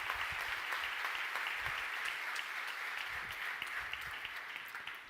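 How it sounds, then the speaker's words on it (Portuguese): A church congregation applauding volunteers, sustained dense clapping from a large crowd in a big hall, steady and then easing slightly at the end. "Você pode dar um aplauso?"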